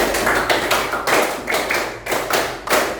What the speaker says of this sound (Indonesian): Tepuk 1, tepuk 1, 2 kali tepuk 5